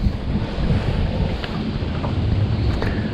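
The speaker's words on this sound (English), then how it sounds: "It's windy as the devil." Strong wind buffets the microphone on a fishing boat out on a lake, a steady roaring rush with gusty low thumps and faint water slaps, no voices.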